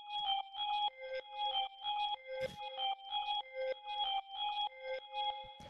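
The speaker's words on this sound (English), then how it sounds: "So then the next thing that we have here is this little bell lead thing," Synth bell lead built from an old sampler bell one-shot plays a repeating bright, metallic pattern of short struck notes in a steady rhythm, with a brief noisy hit near the middle.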